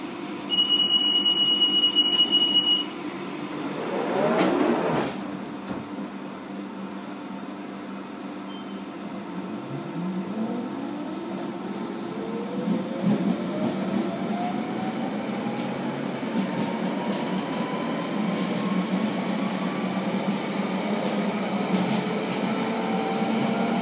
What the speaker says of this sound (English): This is a Central Line train to West Ruislip.